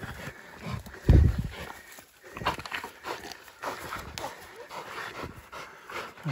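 Pig-hunting dogs panting and snuffling nearby, with rustling movement and a brief louder bump, no clear barking.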